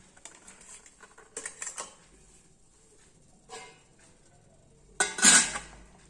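Light taps and clinks as wheat rava kozhukattai dumplings are set into a steamer pot, ending with a louder metallic clatter.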